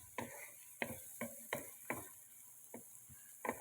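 A spoon stirs turmeric into liver fry in a pan, making a run of quiet, regular scraping strokes about every half second over a faint sizzle, close and without talk.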